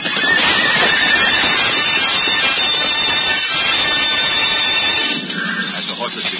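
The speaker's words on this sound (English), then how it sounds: "Horses recoil from the mighty shock." Horses whinny and hooves pound during a mounted jousting charge in a 1949 film, a loud, continuous roar of neighing and galloping that eases slightly near the end, with a narrator's voice running beneath.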